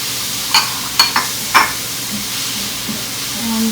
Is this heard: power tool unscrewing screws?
no